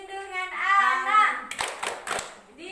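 A group of women and children chant together, then break into a few sharp rhythmic claps in time with the chant during a child-protection session.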